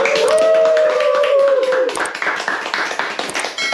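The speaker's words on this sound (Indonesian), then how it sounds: "Tepuk tangan semuanya." Group hand clapping in a room, close and brisk, with a voice calling out at the start and the claps thinning and trailing off toward the end.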